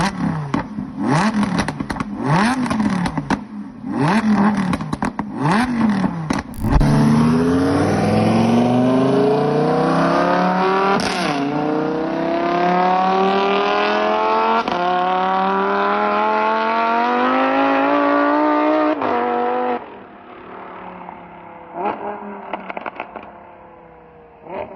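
A car fitted with a modified aftermarket exhaust blips its engine in several quick revs, then pulls through a long, loud acceleration with steadily rising pitch before the note drops away, close by and with no talking.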